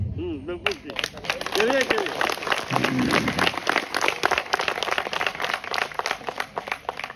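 An audience at a Hindi poetry recital during a Sharad Purnima festival breaks into brisk clapping after a poet's short spoken line, the applause building into a dense, steady patter that runs to the end.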